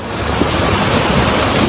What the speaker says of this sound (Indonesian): Arus air yang membesar terlihat menghanyutkan potongan kayu dan batu-batu berukuran besar